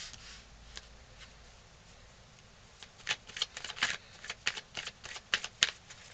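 Tarot cards shuffled and dealt at close range: a quiet stretch with a few soft flicks, then a dense flurry of crisp riffling and slapping card clicks, with no talking.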